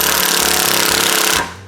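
A cordless power drill runs steadily at close range with a loud, dense whir that cuts off abruptly near the end, leaving a faint tail.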